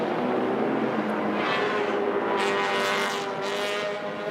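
TP2000 touring race cars, a black Mercedes among them, roar steadily past on a circuit at a Malaysian championship round, a dense continuous engine drone with rising whooshes as cars pass close.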